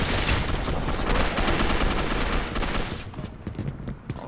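Rapid bursts of gunfire from the multiplayer shooter Gotham City Impostors, dense and continuous at first, then thinning into scattered shots toward the end, with no talk over it.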